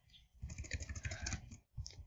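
Quick bursts of clattering keystrokes on a computer keyboard, close and fairly soft, with a brief pause before typing resumes.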